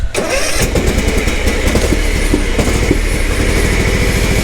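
A Kawasaki FR730V lawn mower engine cold-starts after sitting idle for days with the choke out, catching at once and settling into a loud, steady, close chugging idle with a rapid rhythmic beat and no talk.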